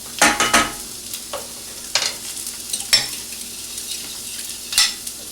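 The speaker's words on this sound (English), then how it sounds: "We need to mix the tomatoes." Tomatoes simmering in a pan are stirred for a few seconds, giving light scraping strokes and soft clinks of the utensil over a faint steady sizzle, with no talking.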